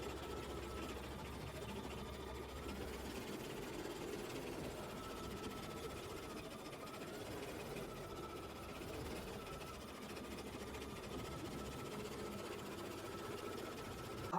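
An embroidery machine stitches a flower design with a steady, quiet mechanical whir and faint rhythmic clatter. The sound runs continuously at low level, with no voices over it.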